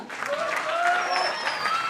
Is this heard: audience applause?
yes